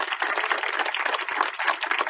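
Crowd applause for teachers during a protest rally, a brief, even burst of many hands clapping, thin and bright with no low rumble, steady throughout and free of speech.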